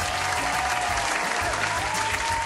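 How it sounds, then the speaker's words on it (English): A round of applause fills the clip, a dense, even patter of many hands clapping at once, loud and sustained without letting up. "A round of applause!"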